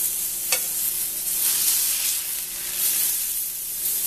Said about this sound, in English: So now it's time to flip the meat.